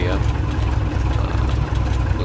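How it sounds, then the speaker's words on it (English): A small aircraft engine on a run-up, raised to 1800 RPM, drones as a steady, fairly loud mid-low hum throughout, with a voice speaking over it. "We're going to raise the engine RPM to 1800 RPM."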